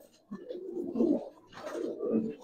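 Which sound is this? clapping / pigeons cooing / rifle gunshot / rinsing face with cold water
pigeons cooing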